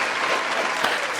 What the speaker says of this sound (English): Everyone, big round of applause for Proper Villains.